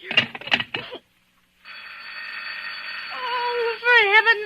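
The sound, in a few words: telephone ringing in a radio drama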